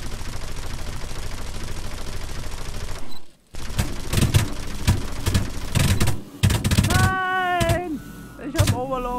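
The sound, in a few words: gunfire in the War Thunder video game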